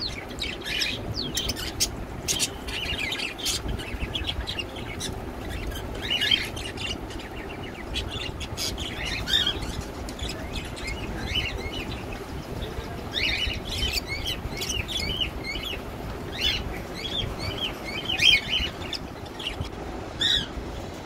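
Exotic birds chirp and squawk in an Old Dhaka aviary, with many overlapping calls and tweets scattered throughout over a steady background din.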